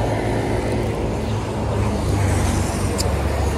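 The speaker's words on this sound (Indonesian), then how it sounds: "Ntar ada mobil." Broadband roadside traffic noise as a car passes along a road near a rest area toilet and prayer room in Kartosuro, a steady close wash of engine and tire sound.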